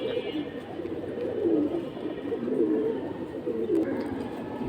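A crowd of pigeons coos without pause at a busy pigeon market, giving a dense, murmuring warble close by with faint background commotion.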